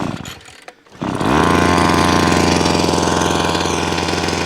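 A small petrol garden machine engine, choke applied, sputters and catches after a second of rough cranking, then runs steadily and loudly up close with a fast, even, throbbing rhythm on a Portuguese homestead.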